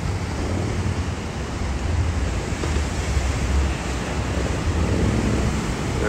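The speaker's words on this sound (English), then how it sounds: "There's the ocean again." Ocean waves roll steadily onto a Pacific shore near a lifeguard tower, a loud, continuous wash of surf with some wind rumble and no talking.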